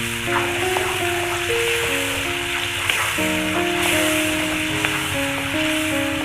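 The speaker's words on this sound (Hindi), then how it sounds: "अब हम गैस को तेज कर लेंगे जिससे कि ये टमाटर भुन जाएं।" Tomatoes fry in a pan over a high gas flame while cooking masala arbi, giving a continuous crackling sizzle that sits beneath steady background music.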